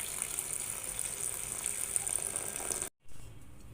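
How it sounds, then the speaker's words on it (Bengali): Kitchen tap water runs steadily over cabbage leaves for under three seconds, a soft close hiss and splash that stops briefly, then continues faintly. "এবার আমি বাঁধাকপিটা ভালোভাবে ধুয়ে নিতেছি।"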